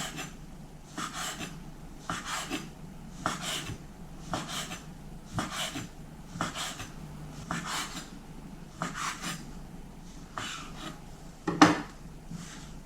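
Repeated short knife strokes on a board, cutting dough into noodle strips, steady rhythm of about two per second, close and clear with no talking.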